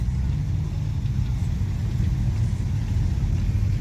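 Steady low rumble of cars rolling into a Cars and Coffee monthly meeting at Tonsley, engines droning continuously at moderate distance without a break.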